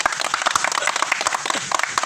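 A group of children claps in brisk, uneven applause, a dense patter of hand claps that lasts only a couple of seconds.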